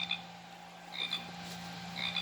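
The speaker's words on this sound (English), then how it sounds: "Pacific tree frog." A Wild Republic plush toy frog plays a recorded Pacific tree frog call: three short, bright, repeated chirping croaks spaced evenly over a steady electronic hum, fairly faint and close.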